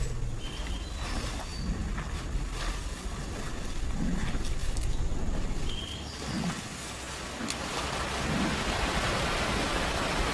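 Heavy monsoon rain pours steadily over a Cambodian jungle, a dense continuous hiss with low rumbling swells that may be distant thunder, and no voices.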